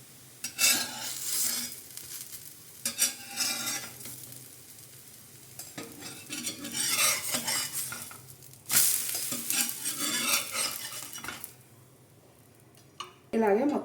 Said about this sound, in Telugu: 2 సైడ్స్ కూడా గోల్డెన్ బ్రౌన్ కలర్ వచ్చే వరకు ఫ్రై చేసుకుంటే